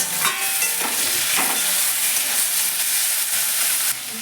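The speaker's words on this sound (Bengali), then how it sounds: "এতে দেবো আলু শিম মুলো বেগুন দিয়ে ভালো করে ভেজে নেবো" Potato, beans, radish and eggplant frying with onions for a Bengali palak chingri dish, a loud continuous sizzle with a few scraping stirs of a spatula early on, easing slightly at the end.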